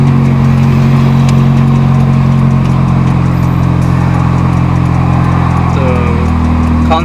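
An Acura Integra engine runs loud and close throughout with a steady, rich drone and a slight rise in pitch near the end, with no talking.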